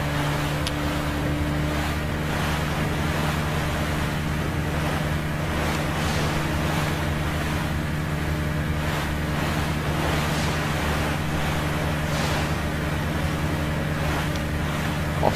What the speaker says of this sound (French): C'est le seul Resident Evil aussi où on finit le jeu avec sur un jet ski